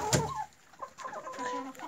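Clucking from a flock of palevye (buff) mini meat-breed chickens, the P-11 type, including a rooster. A loud cluck comes early and softer clucks and murmurs follow, heard close up in a barn with no talk.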